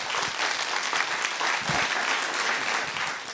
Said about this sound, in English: please give one round of applause